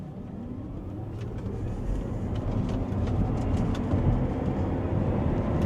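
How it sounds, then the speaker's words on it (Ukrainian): A 2020 Jaguar I-Pace electric car accelerating hard in sport mode on summer tyres, a rising whine and road roar building steadily from inside the cabin, no talk. "зупинимося і спробуємо динаміку розгону в спорт режимі"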